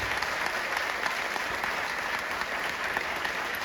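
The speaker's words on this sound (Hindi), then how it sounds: "तो एक बार जोरदार ताली हो जाए सबके अपलाइन के लिए," A seminar audience bursts into sustained applause, a dense, even clatter of many hands clapping at once that fills the hall without pause.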